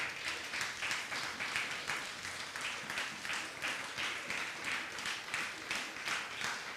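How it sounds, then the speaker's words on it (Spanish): A church congregation applauds loudly for the King of Glory, a dense, steady wash of many hands clapping that pulses in a rhythmic beat throughout, with no talk over it. "Démosle un fuerte aplauso al Rey de Gloria."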